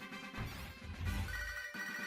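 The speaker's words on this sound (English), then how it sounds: "we're going to get a phone call from Professor Owl" A ringtone chimes in the Pokémon Soul Silver game as a call from Professor Oak comes in, a short tonal ringing pattern over game background music, with no talking.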